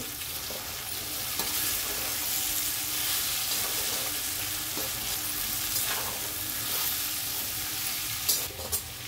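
Vegetables and masala frying for veg biryani, stirred in a pan: a steady broad sizzle runs throughout at even loudness, with occasional scrapes of the spoon near the end.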